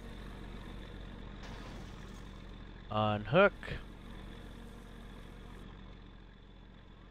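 A tractor engine idles steadily in the driving game My Summer Car, a low constant hum running throughout while someone speaks briefly over it.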